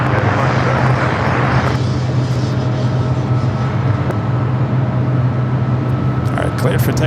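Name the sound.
airplane taking off at Los Angeles LAX airport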